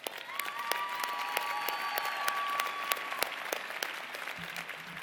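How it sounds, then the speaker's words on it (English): A ceremony audience at a college convocation applauds, sustained dense clapping from a large crowd with scattered sharper claps, moderately distant and continuing for several seconds before beginning to thin out. "Let's give you a round of applause for that."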